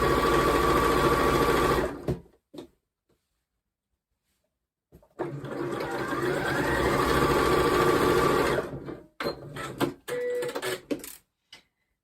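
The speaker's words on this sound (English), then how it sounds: "So I've stitched along the top." A sewing machine stitches along the top of a fabric make-up brush roll, running in loud, steady bursts with a silent pause between runs and a few short stop-start stitches at the end.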